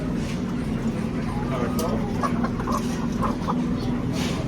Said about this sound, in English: So we call them guinea bird in Trinidad.